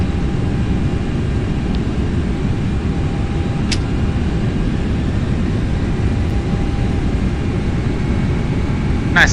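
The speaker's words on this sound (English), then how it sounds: "Nice flyby." Aircraft passing low in a flight simulator game, a steady broadband roar that holds loud and unbroken throughout, with a couple of faint electronic blips.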